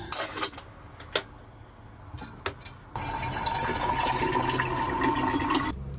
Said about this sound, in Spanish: ponemos agua para el mate